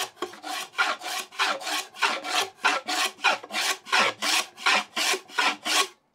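A hand tool takes very fine shavings off wood veneer while a grooved and rebated tray is fitted, a close, rhythmic series of about fifteen quick rasping strokes, each separated by a short pause, with no talking.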